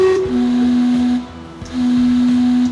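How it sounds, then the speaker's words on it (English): A steam-powered clock in Vancouver sounds a steady, loud whistle chime, two long sustained tones separated by a brief dip, heard alone. "This is the world's first steam-powered clock."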